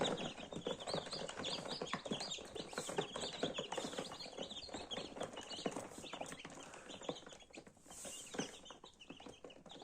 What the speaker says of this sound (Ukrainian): Чудові грайливі активні курчата.